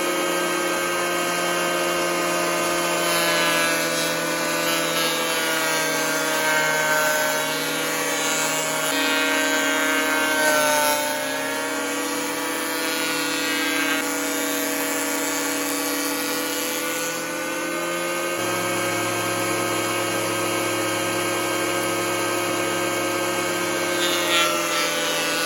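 A Harbor Freight wood planer feeds a board through with a steady, loud, high-pitched whine that runs continuously, its pitch shifting slightly as the cut changes. No voices are heard.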